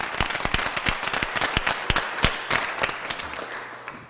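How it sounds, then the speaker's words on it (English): A round of applause at a city Board of Aldermen meeting: dense, sustained clapping from a crowd, loud and close, with sharp individual claps popping out of the steady patter for the full stretch. "So let's give them a big round of applause."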